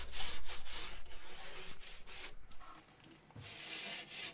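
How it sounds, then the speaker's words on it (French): Stiff brush scrubbing a cement board joint on a bathroom wall with water, a close, rhythmic back-and-forth rasping of several quick strokes that eases briefly then resumes. "C'est pour ça que je la nettoie en premier avec une brosse et de l'eau."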